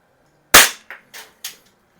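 A Healthways Plainsman CO2 BB rifle fires at a can: one sharp loud crack followed by three quicker, fainter knocks and echoes, close by with no talk.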